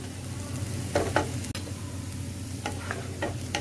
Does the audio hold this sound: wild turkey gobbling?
no